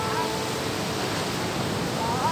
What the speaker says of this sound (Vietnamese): Bây giờ là sóng nó hơi lớn.